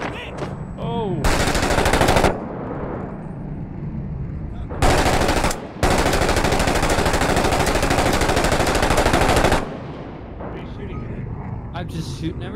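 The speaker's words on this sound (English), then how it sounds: "What an LMG does is lay down rounds." Light machine gun fire in the video game Six Days in Fallujah rattles in long, loud sustained bursts, one lasting several seconds, with shorter volleys and rumbling blasts between them.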